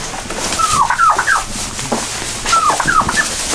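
Chickens and other poultry sheltering inside a farm barn give short, high, quavering clucks and gobble-like calls in two clustered bursts over steady background noise, fairly close and moderately loud.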